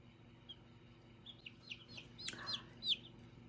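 A Barred Rock chick peeps and clucks in a run of short, high calls, a handful of quiet chirps growing slightly louder toward the end against a faint background hum.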